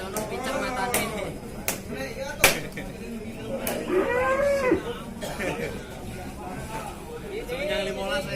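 Cattle moo repeatedly at a busy livestock market in Ciwareng, Purwakarta, with long drawn-out lows rising and falling over crowd chatter, sharp slaps and knocks punctuating the din.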